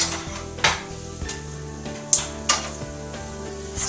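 Seitan sizzling in hot oil in a pan on a gas stove, a constant frying hiss punctuated by several sharp clinks and scrapes of tongs against the pan.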